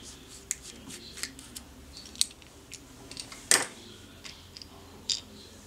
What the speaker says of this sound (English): let's open it up because it has two screws on the back.